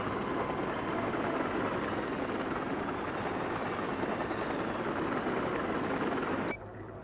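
Helicopter in the video game Battlefield 4, a loud steady rotor and engine roar that fills the scene, dense and continuous before cutting off abruptly near the end.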